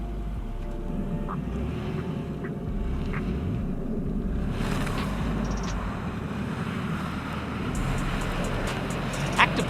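Mitsubishi Outlander wheels spinning on a slippery off-road climb, a low steady engine drone with muddy tire churn and rumble, moderately distant and continuous with faint clicks.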